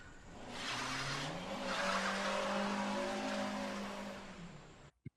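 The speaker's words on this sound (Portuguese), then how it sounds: "enquanto na rua um moleque sai derrapando seu carro sem muito pudor" A car skids its tires along a neighborhood street in a film scene, a loud sustained screech with engine roar lasting several seconds before cutting off abruptly.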